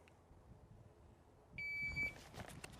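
A shot timer gives a short high electronic start beep over quiet outdoor background noise at a shooting range during a mini rifle stage.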